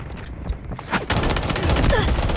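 Dense, continuous gunfire fills the Delta Force Mobile match, with rapid overlapping shots and bursts of automatic fire running nearly nonstop and loud, while a voice talks over the action.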